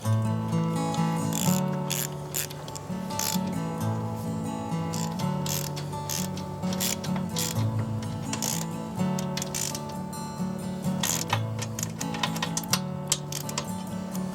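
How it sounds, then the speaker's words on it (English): U-bolts on a Mahindra tractor's remote hydraulics are tightened with a 1/2-inch wrench and socket, producing a busy run of rapid ratchet clicks and metallic turning close up. "With a 1/2-inch wrench and socket, I can tighten all of these bolts."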